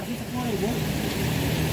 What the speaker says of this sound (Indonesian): Lagi hujan-hujan ya.